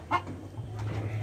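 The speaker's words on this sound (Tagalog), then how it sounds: "ang ganda ng manok ko" A single short cluck from an imported chicken rises over a low steady background hum, followed by faint scratchy movement.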